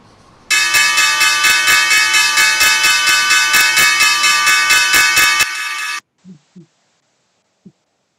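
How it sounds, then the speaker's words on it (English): The stock exchange opening bell on Wall Street rings loud and fast for about five seconds, a rapid metallic clanging that stops abruptly, followed by a few faint knocks. "Let's pause here for the opening bell."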